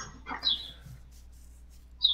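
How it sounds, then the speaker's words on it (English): Faint bird chirps come through a participant's microphone during an online call, two brief high tweets, one early and one at the end, over quiet room hiss. "it sounds like there's some birds"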